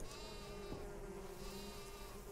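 A sheep bleats in the survival video game Niffelheim, a thin wavering cry set against a faint buzzing game ambience, quiet and with no speech.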